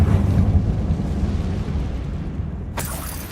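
A Confringo blasting spell goes off inside a closed mine that looks like a tomb in Hogwarts Legacy: a loud, deep explosive boom that rumbles and decays over several seconds, followed by a short bright crackle.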